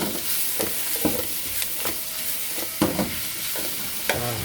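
Smoked duck is stir-fried in a pan: a close, even sizzle broken by repeated, rhythmic scrapes of the spatula against the metal.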